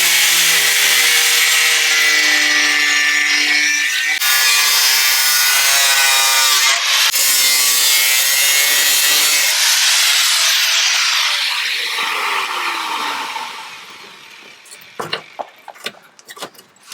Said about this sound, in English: I'm going to cut the lip off this edge.